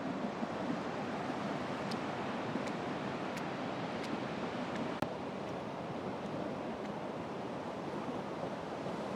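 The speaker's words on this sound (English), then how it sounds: "The waves are not too big. It's nice to see the white foam." Sea waves breaking steadily on the beach at Whitby with white foam, a continuous broad wash of surf and wind, with a few faint clicks and no talking.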